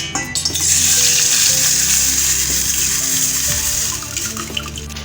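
Ingredients hit hot desi ghee in a pan and set off a loud, steady sizzle that keeps up throughout, with faint clinks of a spoon stirring.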